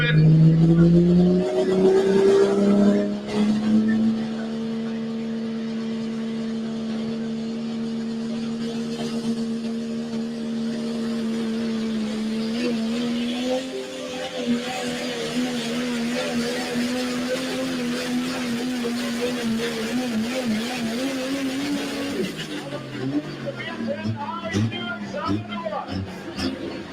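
Heavy truck and tractor pulling engines drone and rev loudly and steadily at an outdoor pulling event, a deep sustained roar that rises in pitch partway through, with an announcer talking over it.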